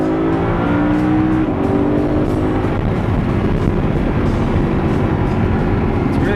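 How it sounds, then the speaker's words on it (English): A manual Audi R8 V10 engine warming up, a loud, steady low rumble heard close by, with the idle note shifting slightly early on before settling into a continuous drone. "All right, the engine's slowly heating up."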